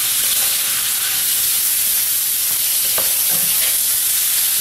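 A Velveeta chicken bacon ranch skillet with macaroni, cheese sauce and bacon bits cooks in a pan, giving a loud, steady steamy hiss with a few faint scrapes and taps of a utensil.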